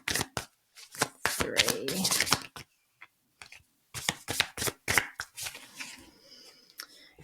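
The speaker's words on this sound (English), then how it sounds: "which I was seeing before I started shuffling" Tarot cards being shuffled by hand in bursts of crisp riffling and snapping, close and fairly loud, with pauses between rounds and a brief spoken word in between.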